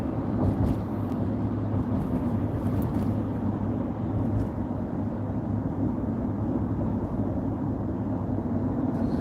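Dense road traffic produces an unbroken low rumble and hum throughout, fairly loud and even, with no speech over it.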